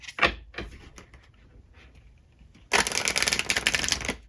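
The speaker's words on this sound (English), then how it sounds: "So let's give them a nice shuffle and see how they feel." A few crisp card flicks, then a dense burst of rapid riffling as a stiff, new oracle card deck is shuffled, close up.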